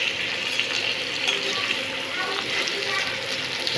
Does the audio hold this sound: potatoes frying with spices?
yes